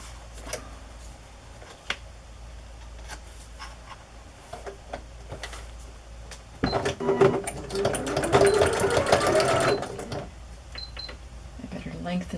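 A sewing machine stitches paper journal signatures with navy thread, a burst of close, rapid mechanical whirring that starts partway through and runs for about three seconds after quieter tapping and handling noises.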